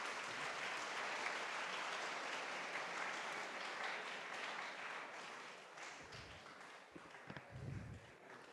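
An audience at a seminar on Gujarati literature in India's independence movement gives sustained applause that slowly fades, ending in scattered claps.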